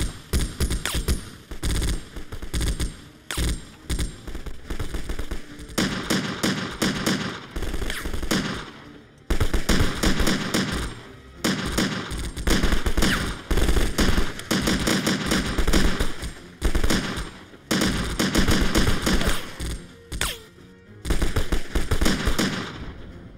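Military firearms fired during soldiers' shooting practice: loud, close bursts of rapid automatic gunfire, repeated again and again with short silent gaps between volleys.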